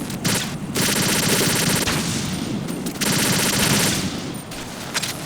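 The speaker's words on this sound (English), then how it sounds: "it's good fun to have an AK with a suppressor, it does feel nice" Suppressed AK rifle fire in Metal Gear Solid 2, sounding as rapid automatic bursts of muffled shots in two long strings with a brief break between, loud and dense, no voices.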